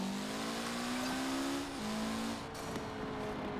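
A Mitsubishi Evo X engine revs in Forza Horizon 4, a steady sustained drone that climbs in pitch, drops briefly with a gear change, then carries on at a lower pitch and fades. It is fairly quiet, with no speech.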